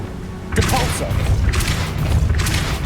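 A Depulso spell cast in Hogwarts Legacy lands as a sudden whooshing blast with a low thump, followed by repeated surging bursts of rushing noise, loud and close.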